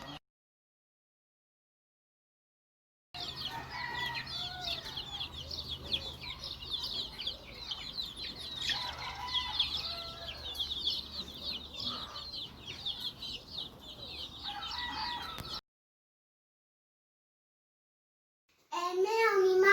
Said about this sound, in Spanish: ahí hay un gallo o una gallina